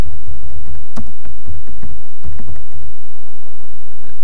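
Clicky keystrokes on a computer keyboard come in a quick, uneven burst up close, tapering off into quiet after a few seconds.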